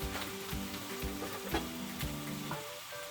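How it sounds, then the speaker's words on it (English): Two apples, an onion and about four strips of smokewood bacon sizzle in a pan while being stirred, with repeated scraping strokes over a steady close-up fry and no talking. "so that's 2 apples, 1 onion, about 4 strips of bacon. Give that a stir."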